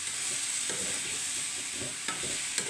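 Food fries in hot oil in a home kitchen pan with a steady, close sizzle, broken by a few soft stirring clatters around the middle and near the end.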